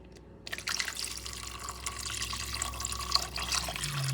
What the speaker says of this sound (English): And now you add your broth.